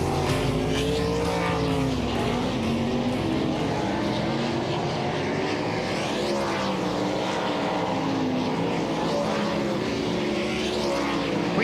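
World of Outlaws sprint cars roar through a final practice session at Ohsweken Speedway, a loud, continuous engine drone with rising and falling pitch as several cars pass, no voices over it.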